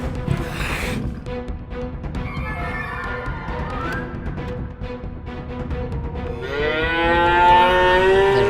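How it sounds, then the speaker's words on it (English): Cartoon cows moo loudly in repeated, drawn-out calls as a leopard attacks the grazing herd, the frightened lowing continuous and close. "The rest of the cows are frightened."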